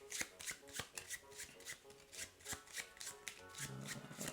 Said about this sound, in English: So we'll shuffle their deck first.